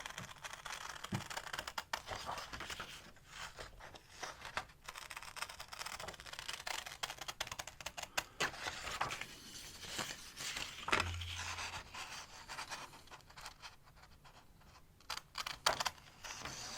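Quiet, close snipping and crisp clicking from scissors cutting a 9 by 12 sheet of paper, repeated irregularly against a faint background with no talking.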